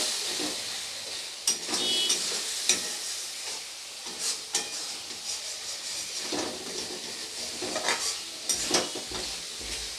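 Tomato with spices and a little water cooking in a pan, a continuous close hiss and bubbling sizzle with intermittent scraping stirs and taps.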